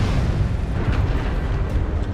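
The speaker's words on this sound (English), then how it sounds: "I'm putting artillery strike." Sustained heavy rumbling blast of an artillery strike in MechWarrior Online, a dense, loud, continuous roar with no pause and no talk.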